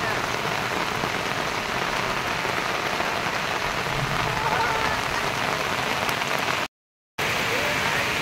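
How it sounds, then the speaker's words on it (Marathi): Heavy rain pours down near Marleshwar in a dense, even roar of drops on surfaces, loud and steady throughout apart from one brief dropout near the end. "आणि मुसळधार पाऊस पडतोय"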